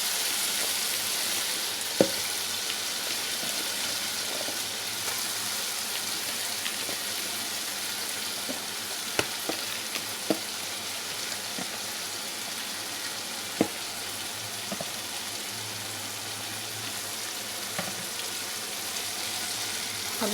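Kale, a green cabbage, fries with garam masala in a pan, giving a steady, dense sizzle that holds for the whole stretch, broken by a few faint clicks and taps, with no talking.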